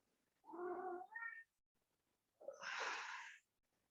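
A house cat meows twice in a quiet room, a first drawn-out harmonic call followed by a brighter, louder yowl after a short pause, close to the mic with no talking.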